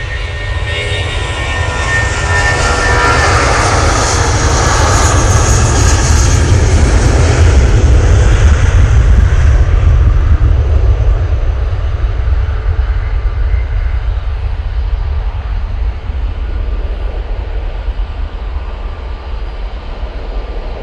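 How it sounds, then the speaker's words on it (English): Lufthansa Airbus A321-200 rolling for takeoff from Manchester Airport to Frankfurt, a loud, close jet roar with hissing whine that swells to a peak midway, then settles into a broad, gradually fading rumble. "Lufthansa now on the roll to Frankfurt."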